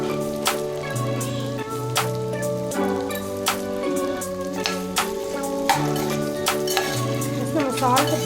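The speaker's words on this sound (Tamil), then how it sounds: "நல்லா ரோஸ்ட் ஆகுது" Chicken fries and roasts in a pan over continuous sizzling, with frequent metal clinks and scrapes of a utensil stirring against the pan; a voice talks over it throughout.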